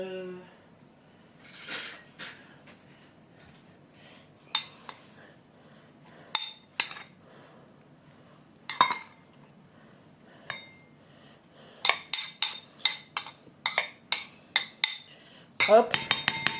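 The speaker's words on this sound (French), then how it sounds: "On va mettre ça dans les bols. Donc, vous mettez le riz," Rice spooned into bowls for a poke bowl: sparse clinks and scrapes of a utensil against ceramic, growing into a quick run of tapping knocks near the end, close and otherwise quiet.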